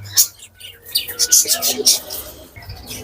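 Several small caged birds chirp and tweet in quick, irregular bursts close by at a bird market, with voices talking underneath.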